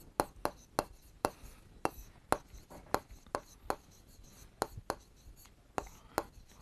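A pen scratches on paper while working a Class 7 maths example on parallelogram area, in a steady series of short, crisp strokes, quiet and close, with no talking.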